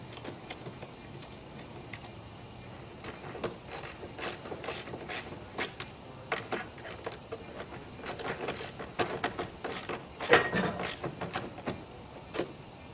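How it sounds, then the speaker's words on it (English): A wrench tightening the six mounting bolts under a pool slide as it is installed on the deck, giving a steady run of close, rapid ratcheting clicks with brief pauses between strokes. "take your wrench and just reach under there and tighten up all 6 bolts"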